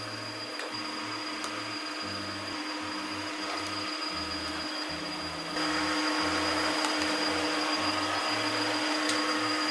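A Dreame Aero wet-dry vacuum mop runs with a constant motor whir and a low, choppy pulsing hum beneath it. The machine grows slightly louder partway through, with no voices.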